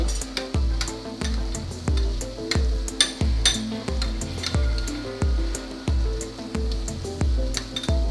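Turmeric and ginger garlic paste are stirred in a hot frying pan for a country chicken curry, a rhythmic series of about a dozen loud spoon scrapes and clinks over a steady sizzle.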